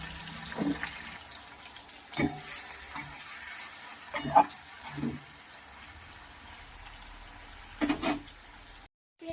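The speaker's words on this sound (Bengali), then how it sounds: "চিংড়ি মাছ ভাজাতে বসিয়ে দিয়েছি" Prawns sizzle steadily in a hot frying pan in a home kitchen, a soft continuous crackle broken by louder stirring scrapes and clinks, fairly close, with no talking.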